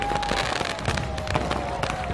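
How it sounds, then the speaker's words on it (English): Fireworks show at a theme park at night, a dense run of crackling bursts and pops with steady noisy rumble throughout, fairly loud and continuous, no talking. "There's still a fireworks show to enjoy."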